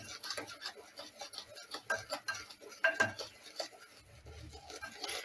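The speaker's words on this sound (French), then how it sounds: "Vous mettez le second œuf. Vous mélangez à nouveau bien." Eggs are stirred into chocolate crinkle cookie dough with a utensil in a bowl, producing quiet, irregular scraping and clinking strokes close up.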